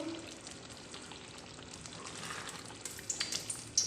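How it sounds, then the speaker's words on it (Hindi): A prawn and eggplant curry with salt just added is stirred in a pan over a steady, close sizzle, with soft scraping and bubbling that grows a little busier toward the end. "अच्छी तरह से मिक्स कर देती हूँ।"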